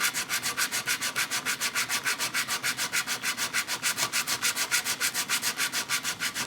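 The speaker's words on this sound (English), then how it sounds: "So just a little strip of sandpaper, hold the neck in place, slide it out." A thin strip of sandpaper worked back and forth across the neck joint of a 1957 Gretsch 6120 guitar, fast, even rasping strokes repeating steadily and up close, with no talking.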